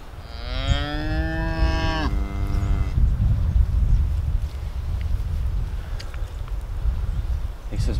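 Cattle on a farm moo on a rainy day, one long, loud, rising and falling bellow up close, then steady rain and wind noise fill the rest.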